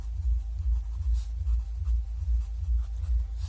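A pen scratches out a math answer on paper in quick, rhythmic strokes, close and steady throughout with no talking.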